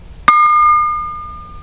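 A longer aluminum 80 scuba cylinder struck like a bell gives one sharp metallic strike, then a clear ringing tone that slowly fades.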